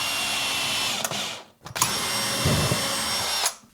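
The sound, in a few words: driving screws into storage room build, power drill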